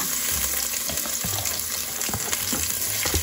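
Onion and garlic sauté in a pan for menudo, a loud close sizzle with stirring scrapes and crackles running continuously, no talk.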